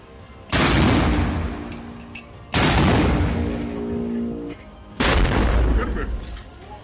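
Hamas fighters fire rockets from a launcher in Gaza: three loud launch blasts, each a sudden roaring burst that rumbles on for a couple of seconds before the next.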